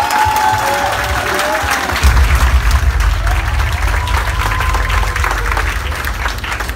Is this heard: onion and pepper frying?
no